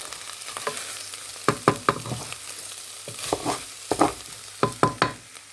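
Chicken sizzles in a pan with garlic and barbecue seasoning while being stirred, soft frying hiss under a series of sharp scraping clacks of the utensil against the pan; no voices.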